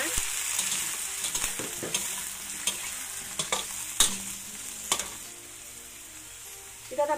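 Mushrooms and lemon basil are stir-fried in a pan: a soft, fairly quiet sizzle broken by sharp spatula clicks and scrapes at irregular moments.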